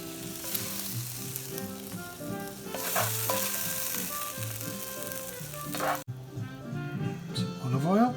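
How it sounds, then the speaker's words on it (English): Food sizzles and simmers steadily in a pan while it is stirred, a continuous frying hiss close by. A person talks over it throughout, and a brief higher rising tone appears near the end. "Let it simmer for about 30 seconds."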